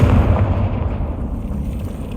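A Confringo fire curse in Hogwarts Legacy on PlayStation 4 Pro erupts as a loud, sustained, rumbling blast, dense and low, that rolls on for a couple of seconds without any voice over it.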